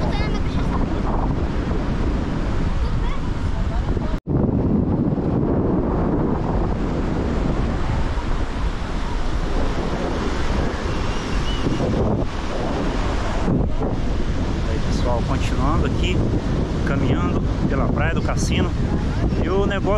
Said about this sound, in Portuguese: Olha aí, pessoal, a praia do cassino.